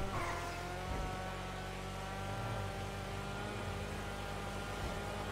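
A turbocharged car engine in the GTA video game hums steadily under load, a constant close drone of driving with no clear revving peaks.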